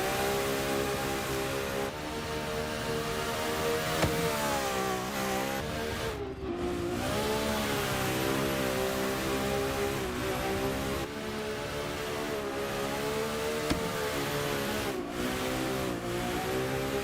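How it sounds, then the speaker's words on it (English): RB30 engine in a drift car at an Oversteer Grand Prix event at Pine Valley revs hard and continuously, rising and falling in pitch over a steady loud roar with no talk. "Let's just hear this beautiful RB30."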